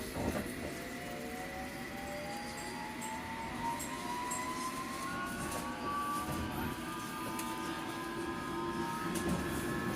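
A clockwise London Underground Circle Line train pulls away from a station, steady rolling rumble with rising whining motor tones sweeping upward, continuous and moderately loud throughout.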